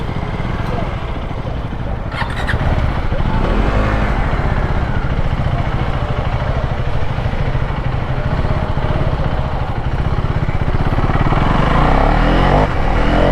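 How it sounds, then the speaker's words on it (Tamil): A KTM Duke 390 motorcycle engine drones loudly and continuously for the whole stretch, a steady close rumble with wind buffeting, as the bike rides along. "இப்போ தான் நம்ம வண்டி போகிறது தெரியுது"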